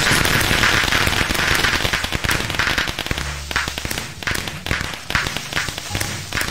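Dense crackling bursts of fireworks from a Minecraft creeper exploding, popping rapidly and continuously, loud and close, with sharp snaps layered over a steady hiss.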